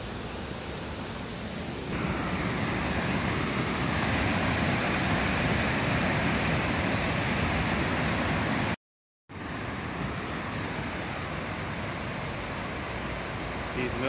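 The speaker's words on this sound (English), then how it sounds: "this waterfall is massive." Inclis Falls, a massive waterfall, roars as a continuous, dense rush of falling water close by, broad and steady throughout with one abrupt momentary cut.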